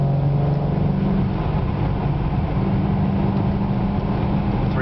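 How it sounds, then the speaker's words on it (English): A BMW E92 M3 fitted with a Dinan midpipe and rear muffler cruises at steady highway speed in sixth gear, giving a loud, constant low exhaust hum with road noise and no changes in pitch throughout. "E92 M3, Dinan Midpipe, Dinan rear muffler, 6-gear cruising, 60 miles an hour"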